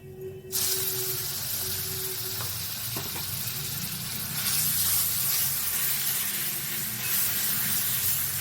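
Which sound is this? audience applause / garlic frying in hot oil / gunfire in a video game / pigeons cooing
garlic frying in hot oil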